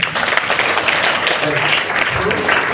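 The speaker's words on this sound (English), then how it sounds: "give a round of applause for yourself" Loud, continuous applause from a group of students during a fire safety talk at a school, dense clapping throughout with faint voices mixed in.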